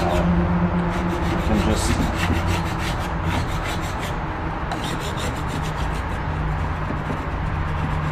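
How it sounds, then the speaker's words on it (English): Scraping candle wax off the worn finish of an old wooden Singer 15-91 sewing cabinet, a continuous loud rasping and rubbing with a few brief spoken words near the end. "whenever you're removing candle wax, you always want to scrape it off as much as you can"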